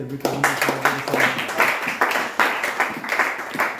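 A church congregation applauds in rhythmic, clustered bursts of clapping, loud and close, with voices and a short sung or spoken tone at the start.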